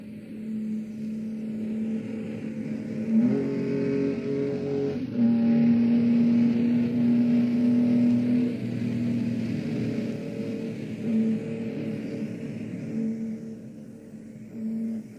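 A 1965 Targa Florio race car is driven hard on open public roads, its engine droning steadily as it revs and holds high, fairly even tones for a long stretch, with no talk over it.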